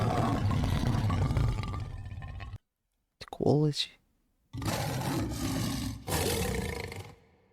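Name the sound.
cartoon roar stock sound effect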